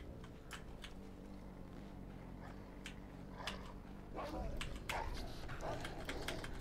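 In Assassin's Creed 3, a dog barks in short, repeated yips and bow-wows mixed with whimpers, heard fairly faintly over a steady game background, with some talk around it.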